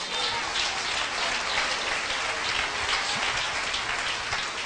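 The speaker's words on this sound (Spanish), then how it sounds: "denle un aplauso al Señor" A church congregation applauding, a dense continuous patter of many hands clapping at steady volume, with no voices standing out.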